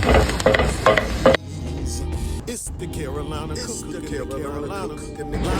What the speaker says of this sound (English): I'm gonna saute these onions really well before I add my garlic